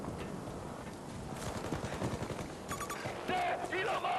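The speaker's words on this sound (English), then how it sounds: "I feel like I hear gunshot" Rapid automatic gunfire crackles through a Battlefield 2042 battle on PS5, mixed with explosions and game effects in continuous, dense bursts that stay loud throughout.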